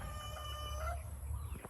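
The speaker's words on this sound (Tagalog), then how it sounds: "Mga itik." Ducks (itik) on a Filipino backyard farm, bathing and feeding on snails, give a short burst of nasal quacking and clucking calls near the listener over steady low rumbling background noise.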